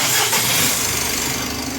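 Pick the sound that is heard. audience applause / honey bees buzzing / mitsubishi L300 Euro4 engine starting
mitsubishi L300 Euro4 engine starting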